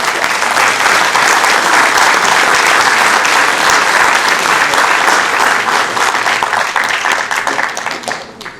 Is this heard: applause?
yes